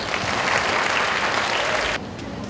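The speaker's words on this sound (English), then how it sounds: "can we start by welcoming all of our performers with a great big Regents" An audience at a Year 1 and Year 2 school musical claps loudly and densely for the performers, then the applause drops off sharply near the end.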